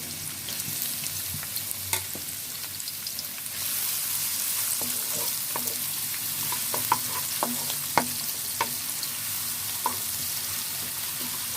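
Chopped onion sizzles steadily in hot oil spiced with cardamom, a continuous frying hiss that swells after a few seconds, with scattered clicks and scrapes of a spoon stirring the pan close up; no talking.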